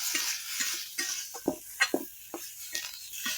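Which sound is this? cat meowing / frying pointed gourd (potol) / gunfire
frying pointed gourd (potol)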